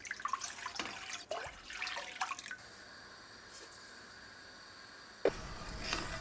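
Water running and splashing in a kitchen sink as fresh parsley and mint are soaked with vinegar, with irregular splashes early, a quieter stretch, then a sharp clink and renewed flow.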